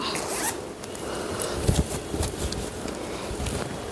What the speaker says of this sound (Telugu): ఇక్కడ మనకి ఇలాగ ఈ విధంగా జిప్లు ఇచ్చారు ఇటు ఇటు